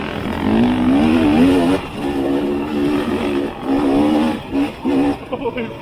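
Beta dual sport motorcycle running in third gear on a Colorado trail, its engine droning in a steady, buzzing note that rises and dips with throttle, close and loud, with a rider talking over it.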